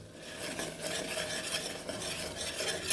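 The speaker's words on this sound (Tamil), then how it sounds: "இப்போ மசாலாவை நல்லா வதக்கிடலாம்." A spoon scraping and stirring masala as it sautés in a pan while a bone soup is made, a soft, continuous rasping with a light sizzle underneath, fairly quiet and without talk.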